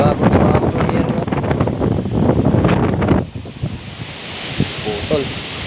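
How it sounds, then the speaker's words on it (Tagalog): Very strong wind gusts roar and buffet the microphone hard outdoors, with rustling and crackling, then ease into a lower, steadier blow as brief voices cut in. "Sobrang lakas ng hangin."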